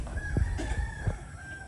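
A rooster crows amid a backyard flock of free-range chickens, its call rising over soft clucking and background clatter, fairly close by.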